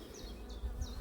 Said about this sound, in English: There are definitely bees in here.